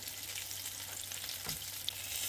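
Apple syrniki (cottage cheese pancakes) fry gently in a pan over low heat, a soft steady sizzle with faint crackles and pops, no voices.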